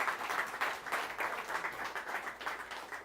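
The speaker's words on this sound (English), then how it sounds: "Maybe you want to give yourselves a round of applause." Staff at an all-hands company meeting applaud themselves, a steady, moderately faint wash of clapping from a group throughout.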